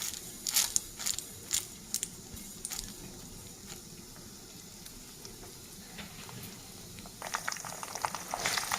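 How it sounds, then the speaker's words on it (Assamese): Bay leaf, panch phoron and white mustard seeds fry in hot oil, a soft steady sizzle with scattered faint pops and crackles, no talk. "ফোৰণখিনি তেলত ভাজা হৈ গৈছে"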